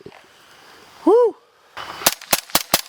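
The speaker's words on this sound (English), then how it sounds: "Gun definitely shoots really nice and sounds excellent." Four sharp suppressed shots crack from a retro carbine fitted with an OCM5 suppressor, loud and evenly spaced over about a second, after a short whooping voice and some background noise.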